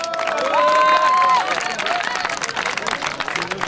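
Crowd at a parish football cup in Braine-l'Alleud, Belgium, applauding and cheering the winning team, a short dense wash of clapping with a rising whoop and voices.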